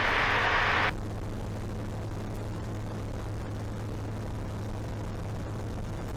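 Engine of a Eurofox microlight aircraft at full power in the climb, a steady loud drone with a brief brighter burst at the start, then an even, unbroken roar.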